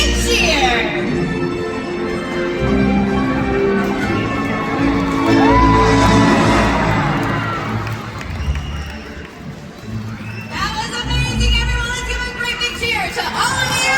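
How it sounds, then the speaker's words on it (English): An audience cheers and shouts at a Sea World whale show in Florida, a loud crowd roar swelling mid-clip with whoops and children's shouts, over an announcer and music on the arena sound system. "everybody give them one great big cheer"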